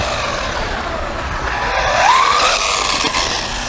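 A WLtoys XK 144001 RC buggy with metal dog bones and an all-metal drivetrain runs with a constant whirring rattle, then a motor whine rises in pitch midway before the buggy settles back into a steady, noisy drone.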